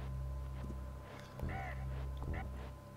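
In the Donkey Kong Country video game, a bird enemy swoops in and hits the player with a cawing, squawking call heard twice in a few seconds, set over a steady game music bed with some talk underneath.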